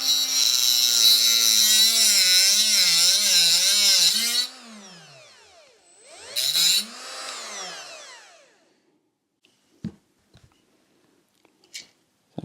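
An angle grinder cuts down a part on a Royal Enfield Meteor 350 bobber build with a loud, high whine that wavers under load, stops, then spins up again briefly and winds down, followed by a few light clicks and taps.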